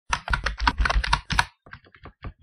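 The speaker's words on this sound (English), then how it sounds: "Then I type in." Rapid clicking of computer keys being typed in bursts, close and fairly loud, slowing into sparser keystrokes toward the end, with no talk.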